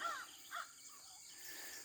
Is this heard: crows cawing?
yes